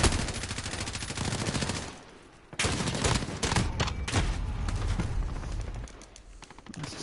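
A Dragunov sniper rifle fires rapidly in a video game, with loud, sharp repeated shots in quick bursts, a brief pause midway, and then more fire.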